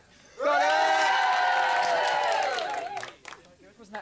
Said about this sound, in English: Give them the cheer.